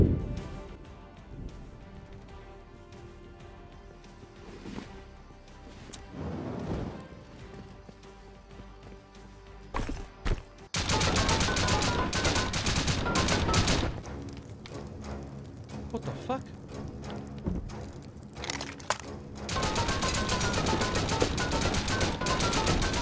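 Gunfire in the survival game Rust: after a quieter stretch, dense loud bursts of shots and rapid automatic fire fill the second half, mixed with other game noise.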